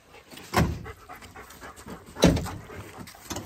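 A dog pants close by in two short, breathy bursts separated by a pause, fairly quiet with no talking.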